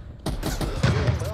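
Gunfire bursts from a weapon in Call of Duty: Black Ops Cold War during an online match, with close rapid shots and loud echoing reports, while a player talks over them.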